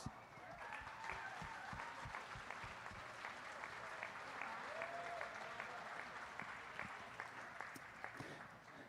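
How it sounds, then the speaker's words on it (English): Members of a national sales committee are applauded by the crowd at a dairy goat show sale, a sustained, fairly distant round of clapping with individual claps audible, continuing steadily throughout. "let's give these guys a round of applause"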